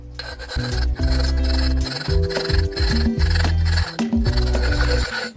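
Harsh, continuous rasping and squealing scrape of sandpaper against the cut edge of a glass bottle, loud and close, in repeated strokes with brief pauses.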